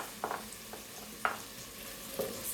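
Green pepper and onions frying in a rice cooker are stirred, giving a few soft spoon scrapes and taps over a constant low sizzle.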